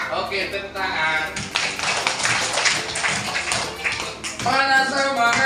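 Schoolchildren in an elementary classroom clap their hands together in a rhythmic burst, close and busy, mixed with voices chattering and calling out.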